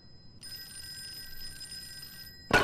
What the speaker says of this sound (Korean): 따르릉 따르릉 어서어서 전화 받아라.